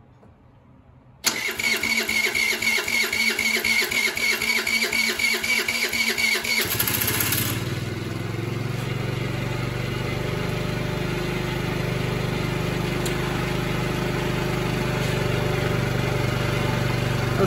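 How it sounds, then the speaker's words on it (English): GY6 scooter engine cranks with a rapid rhythmic starter chatter, then catches and settles into a steady, loud idle held close by for the rest of the time. "let's see if she'll start up now"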